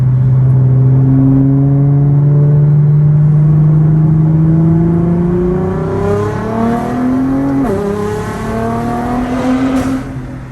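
A car accelerates hard in second gear, its engine droning loud and close with pitch climbing steadily, then a brief dip and recovery as revs rise again near the end, with no talk over it.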